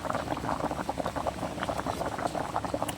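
Milkfish tinola soup with onion leeks and pechay boils steadily in a pot, a dense continuous bubbling close up with no voices over it.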